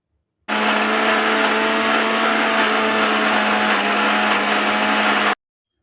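A mixer grinder whirs loudly and steadily for about five seconds, grinding fried masala with kabuli chickpeas, then switches off into silence.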